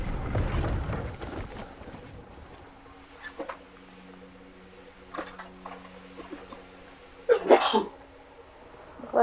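A character in the video game Hogwarts Legacy sneezes once near the end, a short sharp burst over quiet ambient game sound with a low steady hum.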